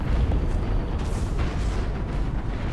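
Heavy artillery fire in the video game Outpost Infinity Siege, a continuous deep rumbling barrage of explosions, loud and sustained with a dense low-end roar and no distinct breaks.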